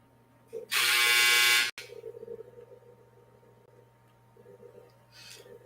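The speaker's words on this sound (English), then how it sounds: "That dryer is so loud." A loud electric buzz blares for about a second over the steady hum of a clothes dryer; a fainter buzz returns near the end.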